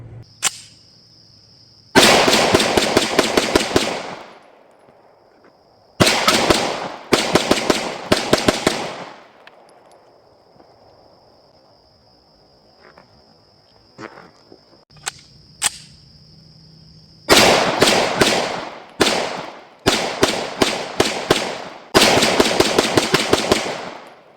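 A Springfield Prodigy 5-inch pistol fires in several rapid strings of loud, sharp shots separated by quiet gaps, heard close up at a range with no talking.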